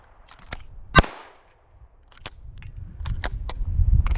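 Pistol shots fired during an IPSC reload drill on an outdoor range: a sharp loud crack, then several quicker fainter reports in a rapid string, over low background rumble.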